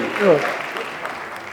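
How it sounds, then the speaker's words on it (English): Brief burst of audience applause at a live podcast taping, clapping that swells and fades quickly while a voice speaks over it near the start. "Give her a round of applause"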